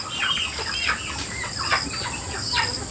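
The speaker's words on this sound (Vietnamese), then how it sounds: "Đây, cô vào xem gà nhà cô đi." Chickens in a coop cluck and chirp repeatedly, several birds overlapping at close to moderate distance over a constant high-pitched background hiss.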